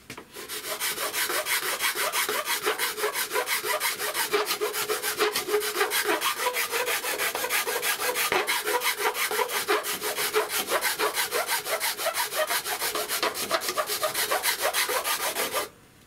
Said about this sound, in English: I'm just going to try using a standard metal file on the Fr4 to see how well a reasonably new metal file rubs up the material.